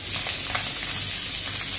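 Semolina-coated sparrows fry on a hot griddle, giving a steady, close sizzle with faint crackles and no speech over the short stretch.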